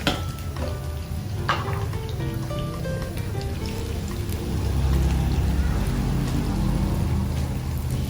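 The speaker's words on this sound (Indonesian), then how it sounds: "masukkan seasoning yang sudah saya blend tadi ya" Blended seasoning paste for soto tauco hitting a hot pan, a steady crackling sizzle that swells and grows louder partway through, close and continuous with faint stirring.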